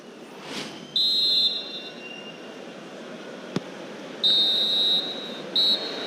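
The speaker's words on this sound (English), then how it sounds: "And the referee's whistle." In EA Sports FC 26, a referee's whistle at Wembley sounds as shrill, sharp blasts: one short toot, then a longer blast and a final quick peep, over faint crowd ambience.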